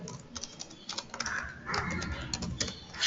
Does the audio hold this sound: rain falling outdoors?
no